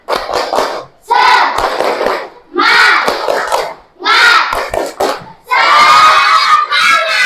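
A group of children shouts an Indonesian 'tepuk semangat' rhythmic chant in bursts, with hand claps mixed into the loud, energetic crowd noise.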